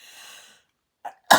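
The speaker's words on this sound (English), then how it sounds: "Excuse me, I got the sneezes all of a sudden." A sudden single sneeze, a short sharp inhale-like burst followed by a loud broadband explosive sneeze at the end, near and alone after a quiet moment with faint background hiss earlier.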